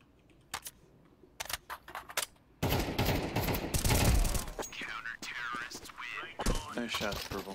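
Sharp gunshots in a Counter-Strike-style tactical shooter, a few isolated cracks followed by a dense burst of rapid fire and scattered later shots, with distant in-game voices.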